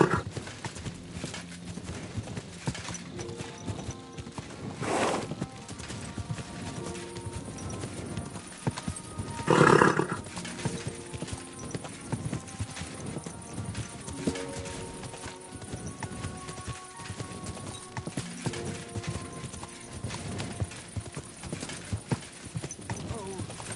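Horse hooves clip-clopping in the medieval game Kingdom Come: Deliverance 2, a steady rhythmic clatter of steps running throughout, with a brief louder snort or whinny midway and ambient game sound underneath.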